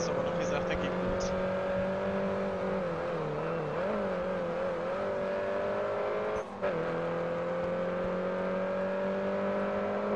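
A Mini's engine drones steadily at moderate revs in the Grid Autosport racing game, sounding weak and slow to gain speed, with pitch wavering slightly and a brief dropout near the end, continuous and close.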